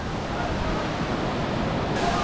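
Steady roar of rushing water from a waterfall in West Kameng, Arunachal Pradesh, a constant broadband wash with no breaks.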